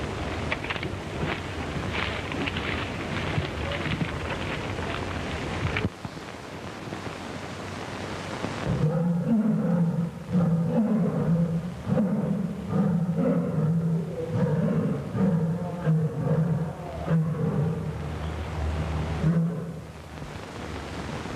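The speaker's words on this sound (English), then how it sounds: "The roar of those lions frightens me." Several lions roaring close together, deep rumbling roars rising and falling in a long sustained chorus over a broad windy hiss, loud and near with no talking.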